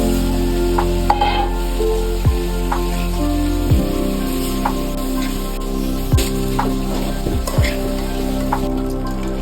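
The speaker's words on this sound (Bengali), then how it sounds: "এখন আমি তরকারি দিয়ে দেবো।" Taki fish and cauliflower-potato vegetables sizzle steadily in hot oil in a pan, with occasional scraping stirs cutting through a continuous close, moderately loud frying hiss.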